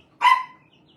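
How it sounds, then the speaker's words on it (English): A single sharp dog bark rings out at moderate distance. It is short and clear against an otherwise quiet background. "What were they barking at, Michael?"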